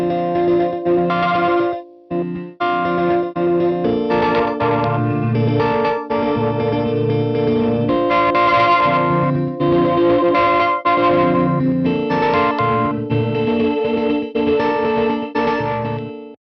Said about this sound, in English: Grains are shorter, randomized, and create sharp stutter-like effects that can sound like machine gun riffs